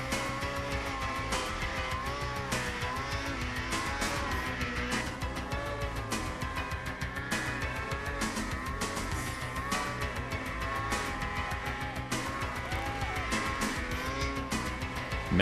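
Polaris snowmobile engine at the 1996 Jackson Hole World Championship Snowmobile Hillclimb, roaring loud and continuous through the whole stretch with a dense, revving drone and no pause.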